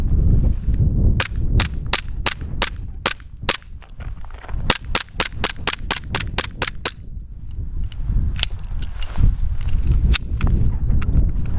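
Airsoft gun firing in two rapid bursts of sharp, evenly spaced shots at close range, then a few scattered single shots later, over steady background noise.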